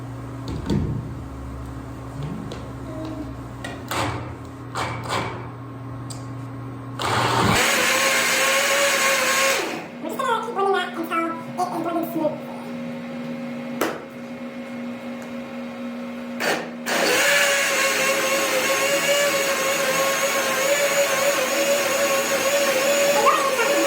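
A blender whirs through chicken tortilla soup made with chicken broth, running as a loud steady drone that cuts out briefly and restarts, with clattering handling sounds in the short gap between runs.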